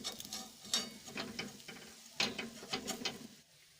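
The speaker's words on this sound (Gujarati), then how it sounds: "હવે આપણે હાંડવાને બીજી સાઈડ ફેરવી દઈશું" Handvo, a savory Gujarati batter cake topped with sesame seeds, is flipped over in a hot oiled pan. It gives off quiet, close scraping and light sizzling in short bursts, with the clatter of the utensil against the pan.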